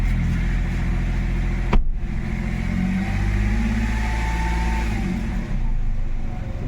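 A Hyundai Xcent car engine runs close by in a workshop after an oil change and clutch replacement, a steady droning hum with a sharp click partway through and a mild rise in pitch as it revs.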